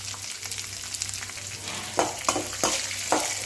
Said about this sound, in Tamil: வெங்காயம் நல்லா வணங்கி பொன்னிறமாக வர வரைக்கும் நல்லா வதக்கிக்கலாம்